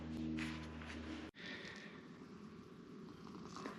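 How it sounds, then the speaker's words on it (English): A cat purrs close by in a workshop, a steady low rumbling purr for about a second before a short cut, followed by quieter room noise. "We got a needy kitty this morning."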